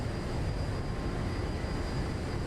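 Steady broadband rumble of a light aircraft rolling out along the runway after touching down at shortened Santa Monica (KSMO) airport in X-Plane 11, continuous and fairly loud with no break.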